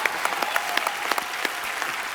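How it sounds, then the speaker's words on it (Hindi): A studio audience claps steadily, a dense even patter of applause with sharper individual claps poking through, fairly close and with no voices over it. "ऑनेस्टी के लिए तो तालियां बनती पहले"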